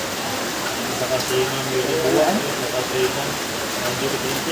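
Rain keeps up a constant hissing wash in the background while people talk over it, and a few faint tonal sounds surface briefly through the noise.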